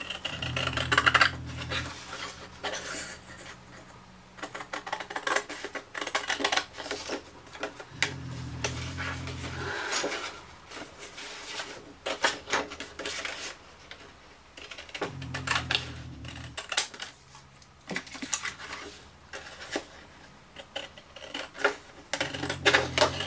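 Paper card shapes cut out with nested metal dies, probably run through a die-cutting machine: repeated low rumbling passes with clicks and rattles of the dies and plates, close and fairly quiet, with no talking.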